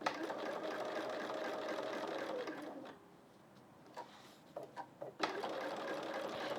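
A domestic sewing machine stitches a quilt in a fast, steady run that stops partway, then a few brief stitches start it up again before running on.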